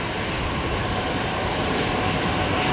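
An Embraer 190 jet landing at Brisbane Airport, its engines a loud, constant, broadband roar filling the short stretch with no talk.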